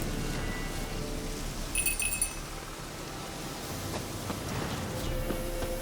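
Steady rain falls in The Witcher 3, a constant broadband hiss throughout, with a brief cluster of glassy clinks near the middle.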